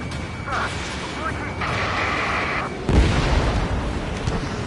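Combat sounds in Ace Combat 7, with a radio voice speaking over mechanical tones and a warning beep, then a deep explosive boom partway through that hits hard and rumbles on.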